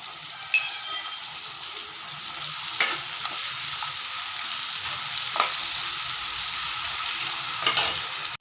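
Steady sizzling in a hot pan with occasional stirring clinks, soy sauce hissing as it hits the surface while making mushroom 65 masala gravy, close and continuous without speech.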